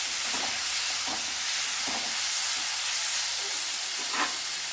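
Chicken pieces being stirred and fried in a kadai for restaurant-style kadai chicken, a steady close hiss and sizzle with periodic scraping stirs roughly every second.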